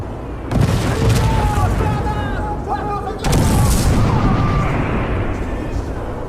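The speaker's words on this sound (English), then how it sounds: "then detonate the explosive devices" Explosive charges detonate in the video game Project IGI, two heavy rumbling booms a few seconds apart, loud and sustained, with voices talking over them.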